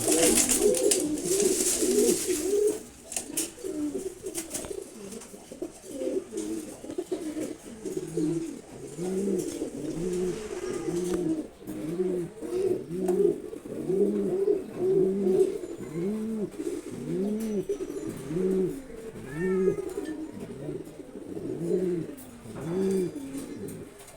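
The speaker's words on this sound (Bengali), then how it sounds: "ও কিন্তু খুবই রাগী কবুতর।" An ill-tempered pet pigeon coos in a steady repeating rhythm, close and clear, with a faint rustle early on.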